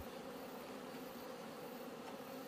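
Honeybees lift off the top of an opened hive during early autumn robbing, giving a steady, dense buzzing drone from many wings close by with no pauses and no talk.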